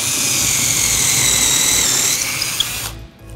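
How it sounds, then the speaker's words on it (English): Power drill boring into a wooden base, a loud steady high-pitched whir held close for nearly three seconds before cutting off abruptly. "very carefully, of course, we just drill into the base here."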